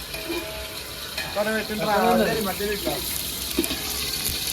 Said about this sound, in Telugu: ఇప్పుడైతే పన్నీర్ అయితే ఫ్రై చేసేసినాం.